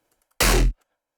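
A single dry dubstep bass hit sounds before any effects processing, a loud, dense burst lasting about a third of a second that cuts off abruptly and is followed by silence.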